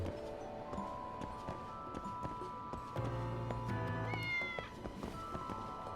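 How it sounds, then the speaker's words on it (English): Several cats meow repeatedly in the Xbox game Lost Judgment, overlapping short cries heard over game music and sound effects, with no talking. "Jesus, there's a lot of cats down here."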